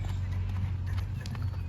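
Mare's hooves clip-clopping near a low background hum, a quick steady series of soft close hoofbeats with faint voices in the background.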